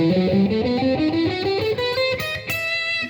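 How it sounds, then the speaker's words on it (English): A distorted electric guitar runs up a harmonic minor scale in quick single notes, loud and close, with an exotic minor flavor. "We can go harmonic minor, for example."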